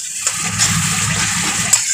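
Water poured into a cooking pan of browned spiced masala, a steady rushing splash that runs continuously at close range with a brief louder burst near the end.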